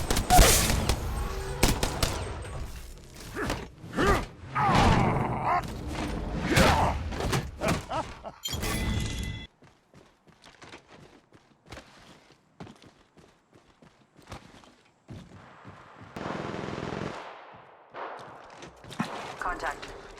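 Bursts of rapid gunfire from the Apex Legends Mobile video game crackle densely for several seconds, then sparser shots and clatter follow, with voices calling out over the action.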